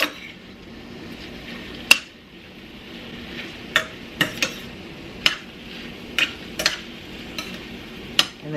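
Sriracha shrimp and broccoli simmering in a pan, a soft steady sizzle with occasional sharp clicks and taps of a utensil against the pan, close and moderately quiet with no talking.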